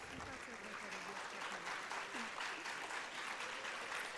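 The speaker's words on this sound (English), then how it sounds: "A big round of applause for the paper presenters." Sustained applause from a student conference audience for paper presenters, dense, even clapping that fills the whole stretch at steady loudness, with faint voices beneath.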